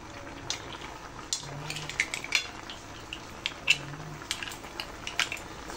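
Buttered seafood broth with shrimp and corn cooking down in a pot, with soft bubbling under scattered metal clinks and scrapes of utensils against cookware, close and fairly quiet.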